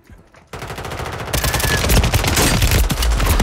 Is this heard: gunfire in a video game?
yes